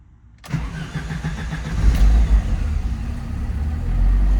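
1988 Alfa Romeo Spider starting cold: brief silence, then the engine catches and settles into a loud, rough, uneven idle that swells and dips, heard up close.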